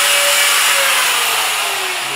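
An angle grinder with a worn 36-grit disc sands wood, giving a loud, continuous high-pitched whine with abrasive hiss, steady and close, slowly easing slightly in pitch.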